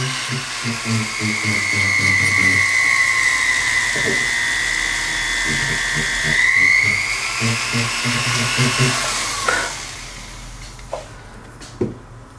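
A rotary tool tip polishes scratches off a metal pendant, giving a steady high whine that dips and rises in pitch, with a few sharp clicks near the end.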